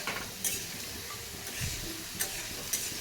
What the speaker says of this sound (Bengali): এই যে সোয়াবিনটা ভাজতে বসিয়ে দিলাম